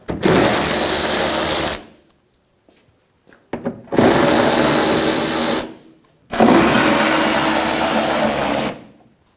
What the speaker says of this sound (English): removing all of the 10mm bolts.